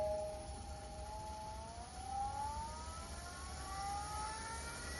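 RIKON 70-220VSR variable-speed wood turning lathe spinning up, a steady motor hum with a whine that climbs in pitch as the spindle speed is raised, heard alone at moderate volume.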